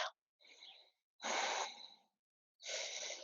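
Deep, slow breaths during yoga breathwork: long, airy inhales and exhales, close and clear, separated by short silent gaps.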